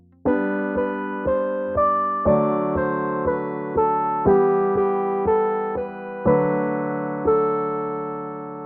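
Beethoven's Ode to Joy played on a keyboard instrument, steady stepwise notes with chords beneath, loud and clear with no voices.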